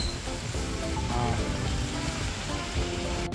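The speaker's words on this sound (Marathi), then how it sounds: "जोरात आलाय आता पाऊस." Dense, loud rush of heavy rain pouring down, with some low rumbling noise underneath and a sharp click at the end.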